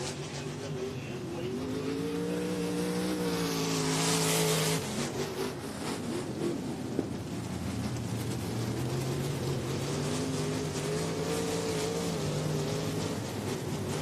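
305 sprint cars circle the dirt oval at Lake Ozark Speedway under caution, their engines droning and rising as they pass. The sound swells, fades and returns in steady laps, heard from a moderate distance.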